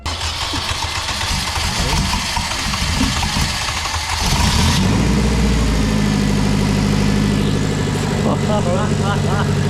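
A turbocharged Honda car engine cranks and catches, then settles into a loud, steady idle with a low rumbling purr; a voice speaks briefly over it.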